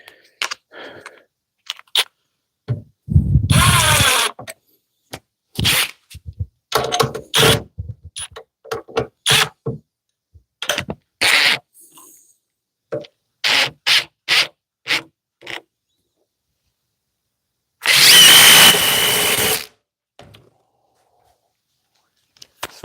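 A DeWalt DCF860 impact driver drives small screws in repeated short bursts of rapid hammering, separated by pauses, with one longer loud run near the end.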